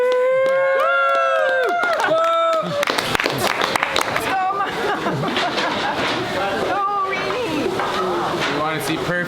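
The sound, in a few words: crowd cheering at anniversary event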